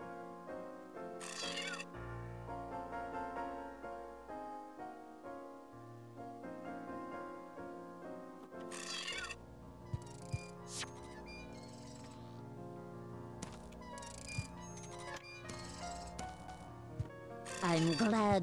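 Cartoonish cat meows from a video game in which the player cycles through cats, set over steady game music with voices talking throughout.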